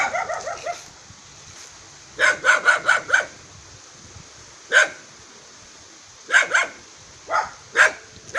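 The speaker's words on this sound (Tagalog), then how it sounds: "Kawalang sa akin yung aso kasi hindi ako niya kilala." A dog barks in short sharp bursts, a cluster of quick barks followed by scattered single barks, moderately near and alone with no talk.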